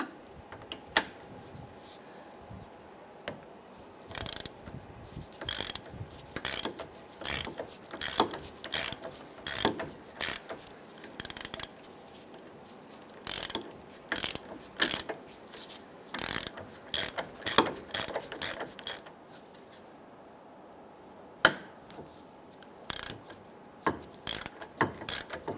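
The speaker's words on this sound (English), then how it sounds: "We're going to use our 18mm socket and remove our brake caliper bracket bolts." A ratchet with an 18mm socket works the brake caliper bracket bolts on a 2005-2010 Chrysler 300, bursts of quick clicking strokes repeated with short pauses between, close and clear.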